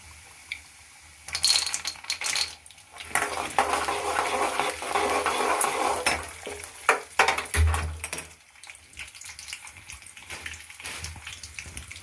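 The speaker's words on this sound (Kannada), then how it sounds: "ಈಗ ಉದ್ದಿನಬೇಳೆ ಹಾಕ್ತಾಯಿದ್ದೀನಿ." Urad dal sizzles in hot oil in a pan while mango chitranna is cooked at home, a steady crackling fry with stirring and clinking sounds, dying down toward the end.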